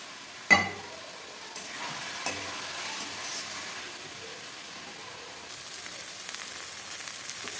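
Goat meat kosha being stir-fried in a pan until the oil separates, a faint low sizzle with a sharp clatter at the start, occasional stirring scrapes and a slight rise in hiss toward the end, no voices.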